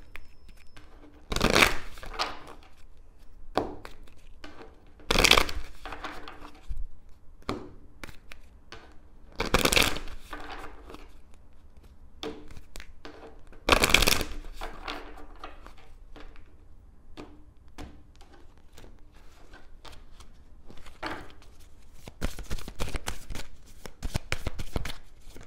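Numerology angel cards being shuffled by hand, several close, loud riffling bursts separated by quieter pauses and soft handling sounds over about twenty-five seconds.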